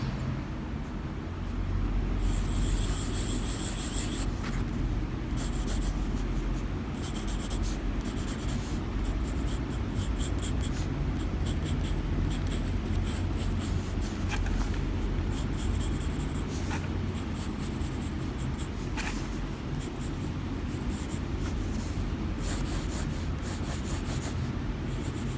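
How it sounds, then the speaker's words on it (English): Blunt pencil scratching steadily across paper laid on a rough paper backing, a close, continuous dry rubbing with brief pauses and changes in stroke. "I'll start with this rather blunt pencil."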